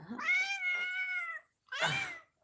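A cat meows twice close by, first a long drawn-out call and then a shorter one after a brief pause, clear and alone indoors.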